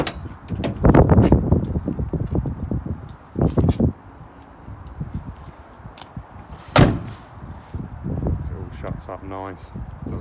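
A Mustang car door shuts once with a solid, close thump, with someone talking before and after and some wind noise outdoors.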